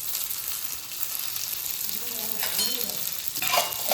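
Chopped onion and curry leaves fry in a pan, giving a soft, steady sizzle with a few brief stirring scrapes near the end.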